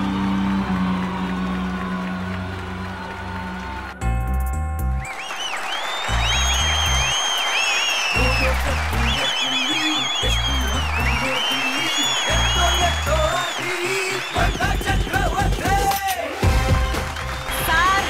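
A large star-night crowd applauds, cheers and whistles to welcome actor Darshan, steady and loud over music playing throughout.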